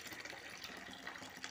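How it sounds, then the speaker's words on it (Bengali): Water from boiled potatoes being drained into a sink gives a soft, steady trickling and splashing rush, faint and continuous for a moment with no talk. "আলুর জলটা ছেড়ে দেব"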